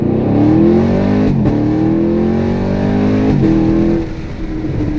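A 2016-2019 automatic Camaro SS on stock tires roars hard under full throttle in a launch control start, pitch climbing through gear changes with brief dips, loud and close, easing off near the end.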